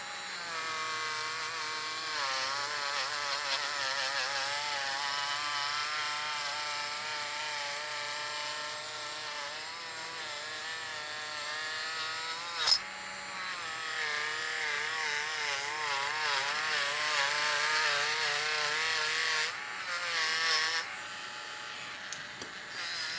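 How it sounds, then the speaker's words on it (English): Proxxon 60E rotary tool polishing a Three Blind Mice Flash Sider knife build, a steady high whine with wavering pitch running almost unbroken for over twenty seconds, close and loud, with a brief knock midway. "we're going to try the Proxon. This is the 60E"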